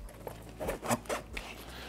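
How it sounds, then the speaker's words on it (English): Zipper on a Long Weekend Morro convertible backpack, pulled in several short, uneven rasping strokes that catch and stutter rather than run smoothly, heard up close with no voices. "It's not the smoothest zip"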